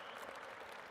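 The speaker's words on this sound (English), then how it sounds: "give a big round of applause to them. Clap for your parents." Graduates in a crowded hall clap for their parents, a dense steady wash of applause lasting about a second.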